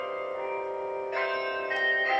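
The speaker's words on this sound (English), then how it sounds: "one of the last Frenchmen who still operates the belfries chimes at Capelle-la-Grande, near Saint-Omer, manually" Belfry chimes at Capelle-la-Grande near Saint-Omer, played by hand, ring out a melody from Handel's Water Music with sustained, overlapping bell tones and new notes striking in, moderately loud and resonant.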